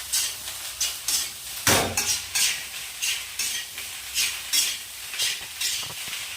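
Egg fried rice is stirred and tossed in a sizzling frying pan, with rhythmic scraping strokes of a spatula roughly every half second over a continuous close, bright crackle of hot oil.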